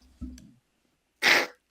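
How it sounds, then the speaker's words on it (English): A woman with a cold and sinus trouble gives a short, sharp sneeze, preceded by a soft inhaling catch of breath, close and clear in a quiet room. "I have a sneeze."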